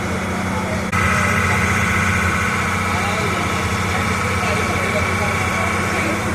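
A boat engine idling on the Kerala backwaters near Alappuzha, a steady loud mid-pitched drone with a vibrating hum that shifts slightly after the first second, with talk underneath.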